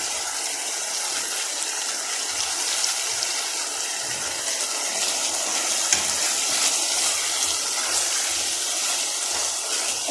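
Chopped garlic cloves fry in a pan with a continuous, bright sizzle, close and steady, with faint stirring movements beneath the crackle.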